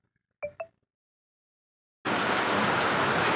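After two short chirps in near silence, heavy rain abruptly begins, a loud, dense, steady hiss of downpour that continues without pause.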